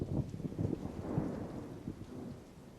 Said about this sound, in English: Throughout the summer, electrical storms roll across the desert, often shedding only drops of water.